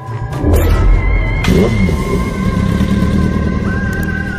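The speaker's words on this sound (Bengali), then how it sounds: "ভূদেব তার বাইকটা স্টার্ট দিল।" A cartoon motorcycle kicks into life with a thump and a sudden roar, then settles into a loud, sustained engine drone that rises slightly in pitch near the end.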